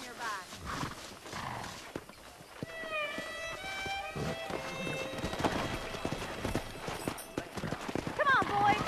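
Horses in the Red Dead Redemption video game gallop with rhythmic clip-clop hoofbeats and an occasional whinny, heard under steady game dialogue and background music.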